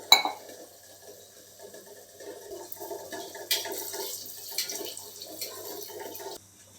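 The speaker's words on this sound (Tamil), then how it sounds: "மூணு கப்பு தண்ணி ஊற்றிக்கலாம்" Three cups of water poured into a metal pot for chicken biryani, a gentle splashing and trickling stream with a clink at the start and a few brief surges before stopping.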